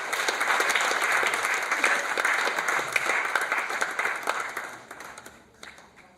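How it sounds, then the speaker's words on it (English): Audience applause at the inauguration ceremony of a lounge in a residence hall, a bright, steady round of many hands clapping that holds for several seconds and tapers off toward the end. "Don't you think there is another hand of applause?"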